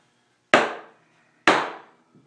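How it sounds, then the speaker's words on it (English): Two sharp, ringing hammer strikes tighten the hoops on a handmade wooden bucket, about a second apart, each a loud close knock decaying quickly, with a faint tap at the end. "Now what I do with my hammer is I go around and tighten and flush."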